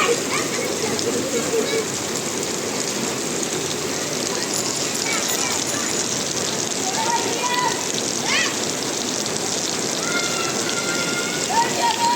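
Heavy downpour drenches a flooded street in Dhaka, a dense and constant hiss of rain striking water and pavement. Faint voices sit beneath the steady roar.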